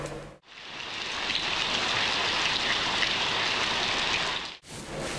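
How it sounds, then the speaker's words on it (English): Steady rain pouring down in a dense, even hiss that starts abruptly and stops just as suddenly, loud and close with no voices. "Oh, it's raining."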